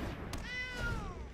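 A cat creature in the card game Magic The Gathering Arena lets out one clear, drawn-out meow that rises and then falls, preceded by a short soft thump, over a low game backdrop.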